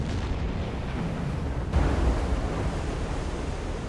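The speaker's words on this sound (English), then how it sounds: "I heard the explosion to the right." A loud explosion in a naval warfare video game, with a sudden burst about halfway through that swells and then rolls on as a sustained rumble over a dense noisy background.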